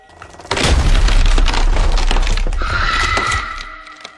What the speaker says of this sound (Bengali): তারপর জোরে একটা আওয়াজ হয় আর দরজা ভেঙে যায়